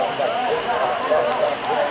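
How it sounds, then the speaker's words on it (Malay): Steady rain hisses down on an outdoor village remembrance procession in Teluk Rumbia. The wash is continuous and fairly loud, with murmuring voices in the crowd beneath it. "hujan guys, nggak bisa itu dilanjutkan ini guys"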